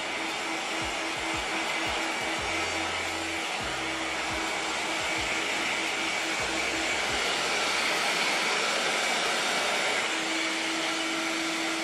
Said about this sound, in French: c'est très rapide avec le sèche-cheveux